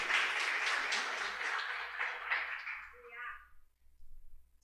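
Congregation in a church clapping for a few seconds, a broad wash of applause that fades out, with a voice speaking near the end.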